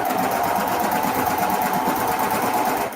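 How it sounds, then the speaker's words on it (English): A sewing machine runs in one continuous fast burst while closing the opening on a ruffled skirt, a steady rhythmic whirring hum that stops at the end. "Sew up the opening"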